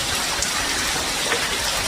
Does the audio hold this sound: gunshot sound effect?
no